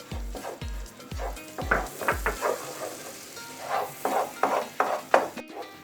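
A spoon scrapes and stirs flour toasting in butter in a pan, rhythmic strokes with a soft sizzle beneath, close and clear.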